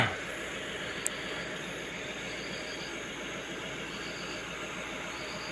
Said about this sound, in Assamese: ওপৰ ফালেদি ট্ৰেইন যায়,